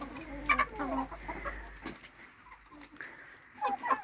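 Roosters cluck and squawk nearby in a barnyard, several birds calling irregularly with brief sharp cries over a low hum.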